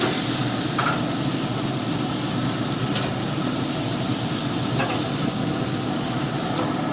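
Bacon-wrapped beans sizzle steadily on a pellet grill, a close, continuous frying hiss with a few faint clicks and no talk.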